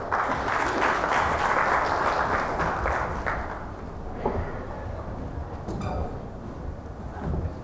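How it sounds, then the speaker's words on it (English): A crowd at an India-Bangladesh business forum gives steady applause welcoming the Bangladesh commerce minister; the dense clapping is fairly distant, eases after a few seconds and lingers more softly until the end. "Let's all welcome him, everyone, once again with a round of applause."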